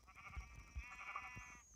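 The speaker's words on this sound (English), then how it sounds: "I gotta kill the sheep." Sheep bleating in Minecraft, a faint wavering cry of about a second and a half with soft thuds under it.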